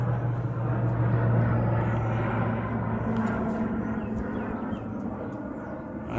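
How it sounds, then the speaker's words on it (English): A crop duster airplane passes overhead, its steady engine drone holding loud and constant throughout before easing slightly near the end, with no voices. "With the crop duster."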